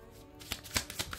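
Lenormand tarot cards shuffled by hand in a few quick riffling bursts, close and fairly soft, with short gaps between the flutters.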